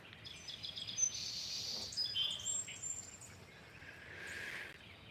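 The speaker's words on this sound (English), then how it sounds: "See the birds?" Several birds chirp and tweet at a distance in short high calls over quiet outdoor background, with no talking.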